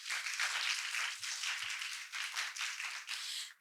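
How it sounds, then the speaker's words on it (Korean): A conference audience applauds after a presentation at a youth climate event session, a steady wash of many hands clapping close and fairly loud for a few seconds before tapering off, with no voices over it. "좋은 발표 보여주신 박진수 대표님께 다시 한번 큰 박수 부탁드립니다."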